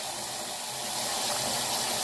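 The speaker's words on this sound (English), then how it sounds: "I just pour the water off." Water pours off black-eyed peas into a kitchen sink, a steady close hiss and splash lasting the whole moment, with no talking.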